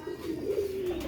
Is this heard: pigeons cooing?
yes